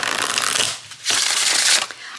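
Riffle shuffling of a tarot card deck, two quick crackling bursts of cards flicking together with a short pause between, close and fairly loud.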